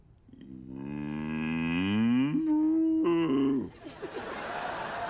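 A person's voice imitates a cow's moo, drawing out a long, loud, lowing call that rises and wavers for about three seconds, followed by a softer breathy laugh.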